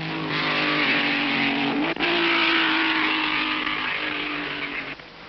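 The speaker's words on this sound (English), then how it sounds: "Through the tree-lined curves of Europe's fastest circuit, Ferrari and Van Wall fight with Hawthorne closing up." 1958 Ferrari and Vanwall race cars roar through the tree-lined curves at Spa-Francorchamps, a loud, continuous engine howl that shifts pitch as they accelerate, with one brief break before the noise tapers slightly at the end.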